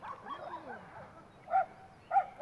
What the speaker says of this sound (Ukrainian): Ці блядські пси, що в них забули тут?